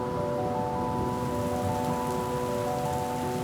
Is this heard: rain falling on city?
yes